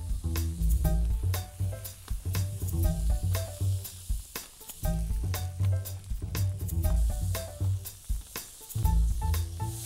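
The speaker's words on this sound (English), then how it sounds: "gonna take my tongs and just take the tortillas and just throw them around" Flour tortillas tossed around with tongs on a hot fajita pan, giving a steady loud sizzle with repeated sharp clacks and scrapes of metal tongs throughout, no talking.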